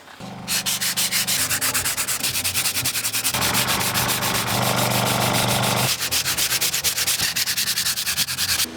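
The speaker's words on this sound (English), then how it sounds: "sanding this green so I can paint it tomorrow" Green paint being sanded on a boat hull, a loud, steady rasping that runs the whole time in rapid back-and-forth strokes, with a denser continuous stretch in the middle, close up and without voices.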